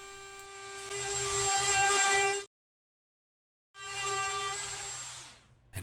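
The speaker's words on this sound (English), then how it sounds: "we'll just clean up that lip with the flush trim bit" A router fitted with a flush trim bit trims a lip off 150-year-old barn wood, giving a loud, steady high-pitched whine in two sustained runs of about two seconds each, split by a brief silence.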